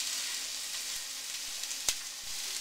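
Meat sizzles as it goes into a pot of pork loin chili with garlic and vegetables, a soft, steady crackling hiss with one brief clink near the end.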